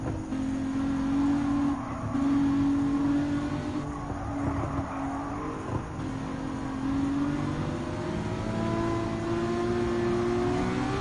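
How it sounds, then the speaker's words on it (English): A Ferrari LaFerrari hypercar in a Gran Turismo 7 race hums steadily, its engine note holding a sustained pitch with slight rises and falls as it accelerates, loud and continuous with no talk. "And the Dakota LaFerrari takes the lead."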